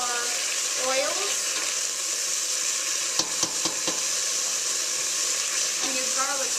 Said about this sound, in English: what you're doing is caramelizing your garlic with your vegetable broth